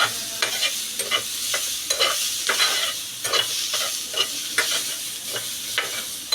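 Browned onion with tomato fries in a pan, a close, steady sizzle broken by regular scraping strokes of a spatula.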